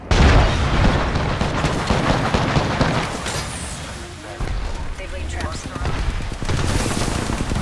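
A frag grenade explosion in the shooter game Apex Legends, booming among repeated gunfire and loud blasts, with players talking over the chaotic battle noise throughout.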